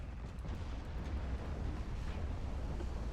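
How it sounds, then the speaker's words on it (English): A warship's ammunition magazine detonates in the naval game Ultimate Admiral Dreadnoughts, a loud, sustained rumbling explosion with deep booming low end that roars steadily without a break. "ammo detonation"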